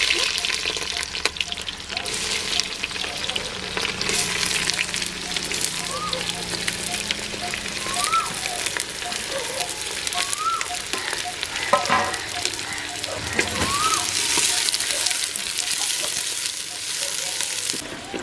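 Onions sizzle in a clay pot as they fry, a steady crackle that continues throughout, with occasional stirring and a voice talking over it.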